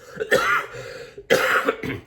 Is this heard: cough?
yes